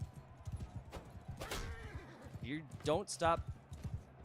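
A horse in a medieval video game, clip-clopping hooves in a quick rhythm punctuated by a loud neigh and whinnies, close by, with someone talking over it.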